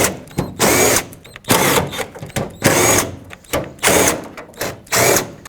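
Power drill backing out T30 Torx screws from a 2008-2010 Ford F-250 tailgate, five loud bursts of whirring in an even on-off rhythm, each about half a second long, close by with no talk.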